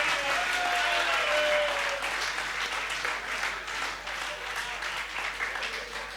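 Audience applause at a Hindi comedy poetry show, sustained clapping from a crowd that swells early and then eases slightly, with no talk over it.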